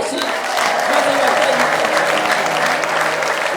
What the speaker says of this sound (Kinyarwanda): Iyo Mana imeze gutyo mwayimpereye amashyi